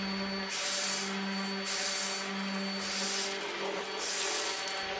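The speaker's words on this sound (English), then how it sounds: "you just sit here. It takes about 6 breaths to get it totally filled" Breaths are blown into the diaphragm valve of an inflatable: four long, breathy puffs, evenly spaced and close, each rising and falling over a steady low hum.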